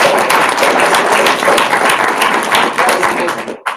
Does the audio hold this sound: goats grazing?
no